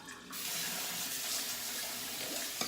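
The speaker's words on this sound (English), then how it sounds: "I'm going to be draining the almonds" Soaked almonds being drained and rinsed under running tap water, a steady continuous splashing stream into a sink that starts after a brief quiet moment and carries on evenly to the end.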